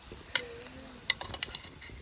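Kashmiri makki ki roti, a maize-flour flatbread, roasts with ghee on a hot griddle, giving a faint, steady sizzle broken by a few soft clicks and taps.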